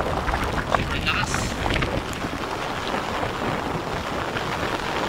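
Heavy rain and gusting wind from Typhoon Nando. A dense, steady hiss of downpour mixes with rushing wind buffeting close by.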